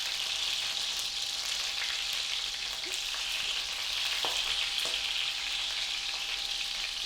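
Sausages frying in a hot pan for toad in the hole, a steady bright hiss of sizzling fat with a few sharp spits and crackles, close and unbroken.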